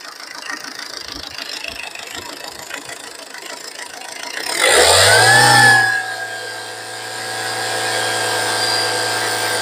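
A used car's engine turns over and settles into a steady idle, with a brief rev at start-up and a low hum continuing afterward.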